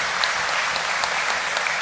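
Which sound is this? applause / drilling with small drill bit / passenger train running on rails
applause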